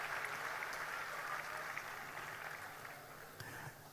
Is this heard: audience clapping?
yes